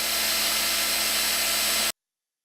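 A power drill turning a number 40 bit while drilling out a Zastava M76 rifle part, a steady continuous whir at constant speed that cuts off abruptly near the end.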